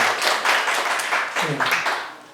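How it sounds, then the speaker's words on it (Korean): An audience claps together at a Buddhist lecture, a steady wash of hands close by with a voice speaking over it before the clapping fades toward the end. "박수 한번 치세요"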